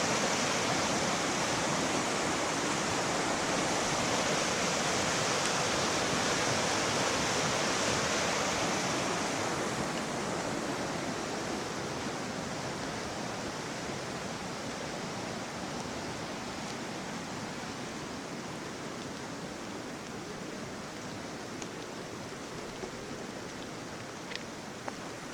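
Steady broadband rush of the Mulberry River flowing in the Ozarks, even and continuous throughout, slightly softer after the first stretch, with no voices.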